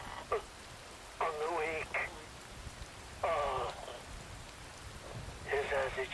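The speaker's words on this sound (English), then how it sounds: "Rain falls." Rain falls steadily in Metal Gear Rising: Revengeance, a soft, constant hiss of drops running beneath short bursts of spoken dialogue.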